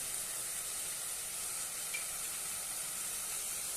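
Tandulja amaranth greens sauté in a hot pan with salt, giving a steady, even sizzle and hiss that runs unbroken at moderate loudness with no talking.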